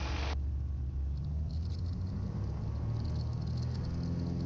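Small airplane engine at full takeoff power: a loud, steady low rumble and drone that holds constant throughout, with no talk over it.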